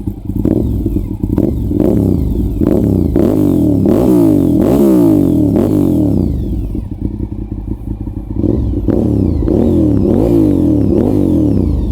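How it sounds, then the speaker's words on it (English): A big Honda RC51 V-twin motorcycle engine revs repeatedly, rising and falling in pitch with a deep, throbby rumble, loud and close throughout with no talking. "big, beefy V-twin engine that also sounds super glorious"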